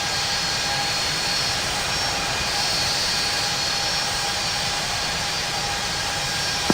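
A Boeing 757 jet from the Infinite Flight game roars steadily through a takeoff run on runway 27 left at London Heathrow, a constant loud broadband engine rush with no talk.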